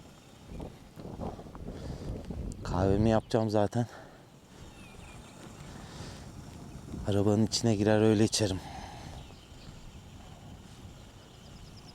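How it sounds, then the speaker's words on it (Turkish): Cold wind buffets the microphone at a highland campsite in the Taurus Mountains, rumbling in low gusts under a man's speech, with two loud bursts of blowing. "Şu an hem soğuk hem rüzgar, yani soğuk bir şekilde esiyor"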